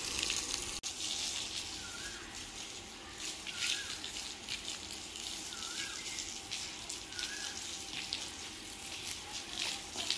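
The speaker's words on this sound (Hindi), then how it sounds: "इसलिए अभी यहाँ पे सारा पानी लगा लेते हैं" Water splashed over a hot brick floor in a village courtyard hisses and sizzles steadily throughout, a continuous bright fizzing wash with a brief tap near the start and no voices.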